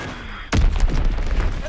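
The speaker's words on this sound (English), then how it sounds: "Enemy bomb incoming! Get to cover!" An enemy bomb explosion in Call of Duty: WWII, a sudden loud close boom with a deep rumbling tail that rolls on for over a second after a short quiet lead-in.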